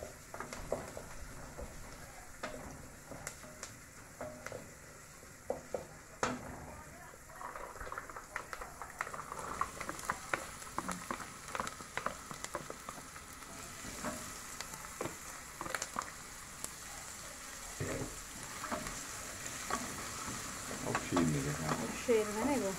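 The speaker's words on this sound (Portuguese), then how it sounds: "Aqui eu coloquei alho e cebola para refogar, como a gente faz o arroz normal." Garlic and onion sauté in a pan before rice is added, a soft continuous sizzle and bubbling with occasional stirring scrapes, close but fairly quiet, with some voices in the background.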